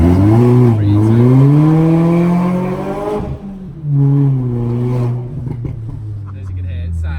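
A tuned Mini JCW F56 with a straight-through exhaust and single rear silencer revs hard, rising and falling engine tones with two strong pulls, loud and near, fading into a quieter idle at the end.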